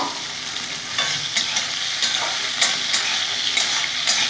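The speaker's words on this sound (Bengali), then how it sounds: "এখন বেগুনগুলো ভেজে নেব" Steady, crackling sizzle of eggplant frying in a pan, with occasional stirring scrapes, close up and continuous with no voices.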